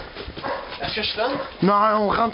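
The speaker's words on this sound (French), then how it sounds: "Fais attention, il y a un chien." A dog at a house yips and whimpers in short bursts, then lets out a sustained whining cry near the end, heard under continuous French conversation between visitors at the door.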